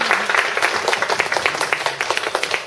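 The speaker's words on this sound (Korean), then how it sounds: "뜨거운 박수로 우리 코로나를 감당해주세요" A concert audience claps steadily and enthusiastically, a dense patter of many hands close by.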